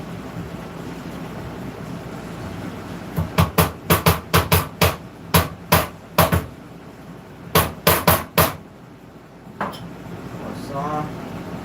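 A hammer whose face is fitted with a rubber chair leg guard, acting almost like a dead blow, strikes repeatedly in workshop bursts of quick, dull thuds, two clusters of about a dozen blows, with a few faint voice sounds afterward.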